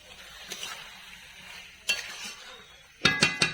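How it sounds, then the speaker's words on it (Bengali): Meat and spices fried in a pan while being stirred, a quiet sizzle punctuated by a few sharp scrapes and clinks of a spatula against the metal, the last three strokes close together. "এবার মশলার সঙ্গে মাংসটা ভালোভাবে কষিয়ে নেব"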